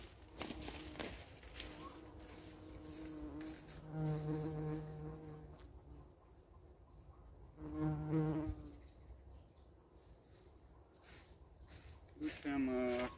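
Honeybees buzz around a hive as a weak colony is moved to merge with another, a faint swarm hum with a few louder passes close by, while someone talks quietly.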